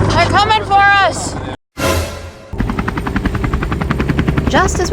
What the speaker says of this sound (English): the Coast Guard came out with their helicopter and started heading towards Drifter